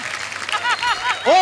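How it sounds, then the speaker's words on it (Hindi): An audience applauds in a steady wash of clapping while a voice speaks and exclaims over it, swelling louder at the end. "जोरदार तालियां"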